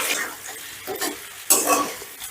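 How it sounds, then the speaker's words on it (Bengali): Potato pieces fried in oil with whole spices for aloo pulao are stirred in a pan, giving a soft sizzle broken by several scraping strokes of a spoon, with a sharper clatter midway. "এবার আলুটা ফোড়নের সাথে একটু নাড়াচাড়া করে ধরো মিনিট 2-এর মতো নাড়াচাড়া করে ভেজে নেব"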